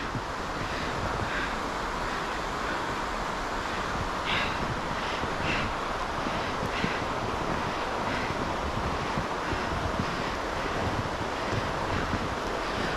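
Water pours steadily over a section of waterfall on Falls River, making a constant broad rushing roar with no voices.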